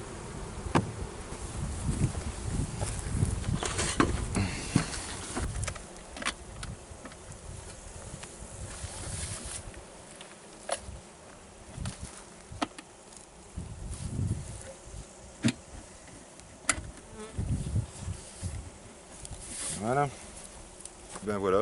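Honeybees buzz steadily around an opened Layens hive on a natural-built stand, a dense insect hum that swells and fades with passing bees, broken by soft clicks and handling sounds; a person talks quietly now and then.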